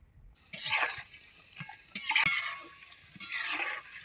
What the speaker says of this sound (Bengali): এবার ভেজে নেব পকোড়াগুলো